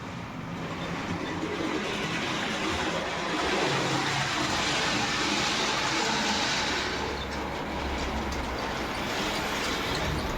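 A cardboard model of the ST44 PKP Cargo locomotive on 1:87 scale track gives a steady, close rolling rumble and rattle that hold without a break throughout, with no voices.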